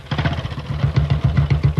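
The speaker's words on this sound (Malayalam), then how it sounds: "അവിടെ ബൈക്ക് സ്റ്റാർട്ട് ചെയ്ത ശബ്ദമാ" A motorcycle engine fires up and runs with a rapid, pulsing low putter and light mechanical clatter, close and fairly loud for under two seconds.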